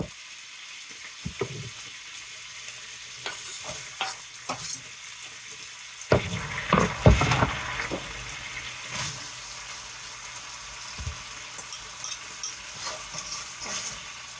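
Onions and tomatoes sizzle in a pan with a steady low hiss, punctuated by scattered clicks and scraping of a utensil stirring, with a busier burst midway.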